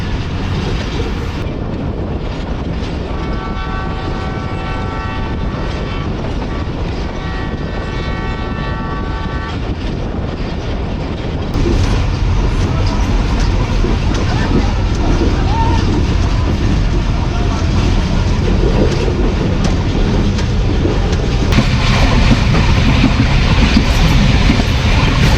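A Pakistani passenger train, the Badar Express, rumbles along behind locomotive ZCU3609 between Lahore and Faisalabad. There is a steady loud rolling roar, brief horn-like tones early on, and the noise grows heavier as speed builds, with a voice talking over it.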